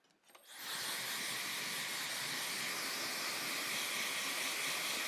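A blow dryer starts with a rising rush of air and then runs as a steady, loud, broadband hiss until the end, with no voices.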